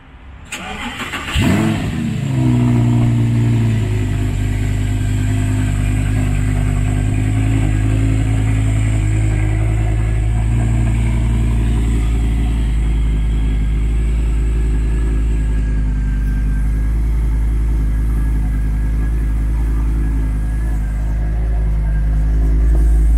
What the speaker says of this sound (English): Getting picked up in a brand new Jeep.